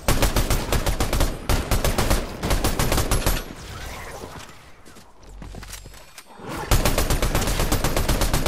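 Dense rapid gunfire from the video game Fortnite, with long bursts of automatic shots, a quieter mechanical lull in the middle, then the loud firing resumes.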